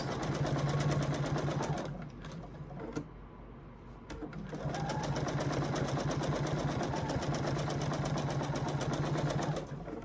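A sewing machine stitches binding along a placemat in steady, continuous bursts, pausing briefly midway before running on at an even, close hum.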